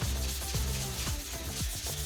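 Steel of a single-bevel Japanese knife rubbing back and forth on a whetstone, a steady gritty scraping with repeated strokes roughly every half second, close and continuous with no talk.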